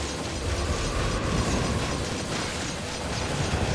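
Rapid shooting effects in the Genshin Impact video game, a dense, steady, rattling barrage of mechanical bursts and blasts filling the whole stretch with no voices.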